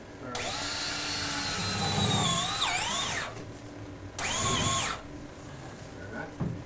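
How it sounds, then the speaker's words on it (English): Power drill driving sheet metal screws to fasten a Magic Pak HVAC unit to its transition, two whining bursts with the motor pitch dropping as each screw seats, fairly close and loud, with a short pause between. "they're gonna screw some sheet metal screws to attach the unit to the actual transition"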